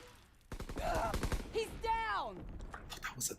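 Rapid bursts of gunfire in the video game Call of Duty, a quick volley of shots followed by tonal game effects, with a voice talking over them.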